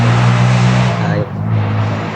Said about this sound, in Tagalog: Marami pong dumadaan dito kasi ng motorsiklo mga tol, kaya maingay po, laki yung tinig ng motor nila.